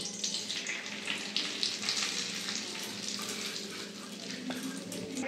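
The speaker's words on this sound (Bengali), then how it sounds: "সুজিটা আমি দিয়ে দেবো ঘিয়ের মধ্যে" Semolina sizzles in hot ghee in a kadai, a soft steady frying hiss that carries on evenly throughout without talk.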